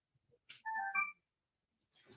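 A mobile phone ringtone sounds during an eviction court hearing, with a short melodic burst of a few tones, fairly clear and alone, and faint noises before and after.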